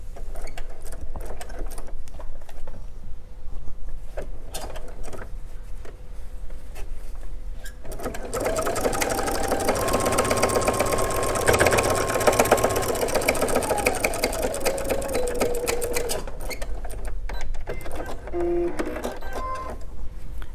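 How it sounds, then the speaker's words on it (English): A sewing machine stitches across fabric for a microwavable popcorn bag. A short burst of stitching is followed by a long steady whirring run, then a stop and a few mechanical clicks, heard close and loud. "you're just going to stitch across that right on your line"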